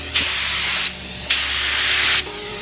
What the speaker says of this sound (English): we're ready to go try it on some cardboard. See, check out the spray pattern